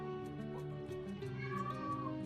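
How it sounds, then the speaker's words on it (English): A cat meows faintly indoors, a drawn-out wavering cry over a steady low tonal hum. "This cat is trying to get on to me. Did you hear that?"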